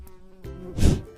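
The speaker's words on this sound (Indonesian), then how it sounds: "Baunya busuk dan dihinggapi banyak lalat." Flies buzzing around rubbish, a short, close droning hum that swells briefly in the middle of the clip.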